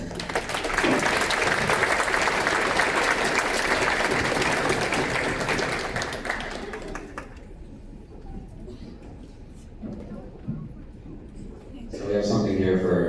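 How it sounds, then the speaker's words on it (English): Audience at a school spring band concert applauds loudly and steadily for about seven seconds, then the clapping thins out to scattered claps and murmuring before a voice speaks near the end. "so give yourselves a round of applause."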